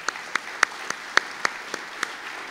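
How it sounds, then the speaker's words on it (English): A few scattered handclaps ring out at the Hawaii Energy Conference as the audience thanks the sponsors. About eight sharp, separate claps fall at a slow, fairly regular pace over a quiet background. "Please give them all a round of applause."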